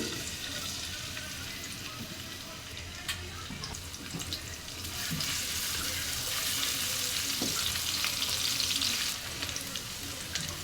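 Chopped onion frying in oil in a pan for a rice dish hisses steadily up close, growing a little louder and brighter partway through before easing back.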